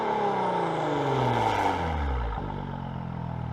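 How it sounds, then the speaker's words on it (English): A 2021 Maserati Ghibli GranSport SQ4 twin-turbo V6 revs up loud and close, its pitch climbing steadily, then dropping back to a lower steady drone, with no one talking. "Still one of the best twin turbo V6s in the game."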